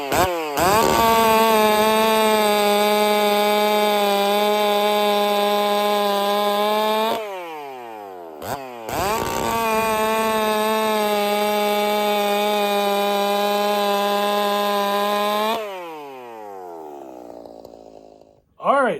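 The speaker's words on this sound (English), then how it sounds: "What do you say we put this on the saw and give it a test run?" A chainsaw with a modified, freshly sharpened chain runs at a high, steady whine for several seconds. It drops off briefly, revs up and holds again, then winds down with a falling pitch. It is loud and close.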